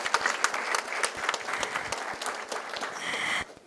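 Audience applause for a keynote speaker at a Marathi lecture event, a dense steady clatter of many hands clapping for over three seconds before cutting off sharply near the end.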